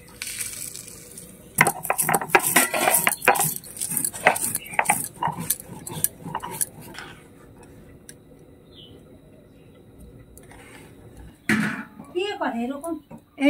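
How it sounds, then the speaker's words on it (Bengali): Fried spices being ground into powder, a burst of rapid, dense scraping and rattling clatter that tapers off, with a voice speaking near the end. "আমি এই ভাজা মশলাটা এখন গুঁড়ি করে নিচ্ছি,"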